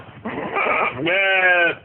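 A goat in a model breeding pen gives a single close, loud bleat, wavering at first and then rising into a strained, tonal cry that lasts under two seconds.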